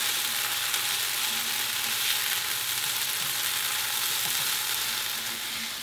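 Onions sauté in a hot pan with a dense, constant crackling sizzle, loud and close throughout, with no voices.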